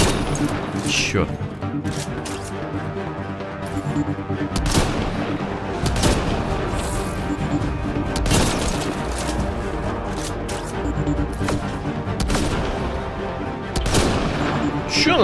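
Rapid bursts of gunfire and booming impacts from the Mass Effect Andromeda video game ring out near and loud across the whole stretch, with someone speaking over the shooting.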